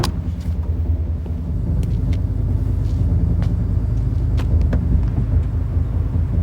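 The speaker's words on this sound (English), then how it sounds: "레너드는 한적한 곳에 차를 세우고 상대 차량이 다가옵니다." A car in a film rolls closer across a quiet, deserted spot, its engine rumbling low and steady with faint scattered clicks and ticks over the drone, and no talking.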